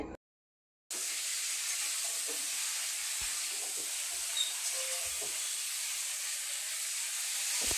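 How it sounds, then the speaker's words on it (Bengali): Cauliflower pieces frying in hot oil in a pan give a steady, even sizzling hiss that starts after a brief silent gap and carries on unchanged to the end, with no voices. "ফুলকপি দিয়ে মাছের ঝোল ফুলকপি ভাজছি"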